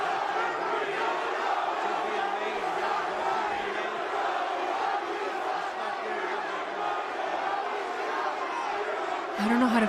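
Crowd at a WrestleMania XL kickoff press event cheers and chants loudly and continuously, a dense roar of many voices with a brief louder swell at the end.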